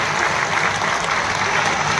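Loud, steady applause from a large crowd at a public government event with the Chief Minister in Mandla fills the whole short span with continuous dense clapping.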